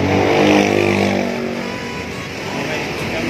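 A car engine idles and runs steadily, fairly loud and close, with a low rumble that swells early on and then settles, and a voice talks over it.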